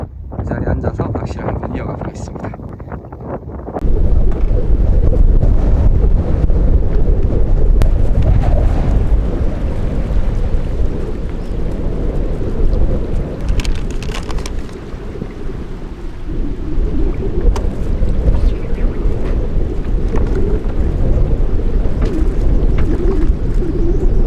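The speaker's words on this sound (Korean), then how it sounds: "지금 바람이 엄청 불고 있는데" Strong wind roars across the microphone at a reservoir fishing spot, a loud, steady buffeting rumble that starts abruptly after a few seconds of quieter outdoor ambience and persists throughout, with someone speaking underneath.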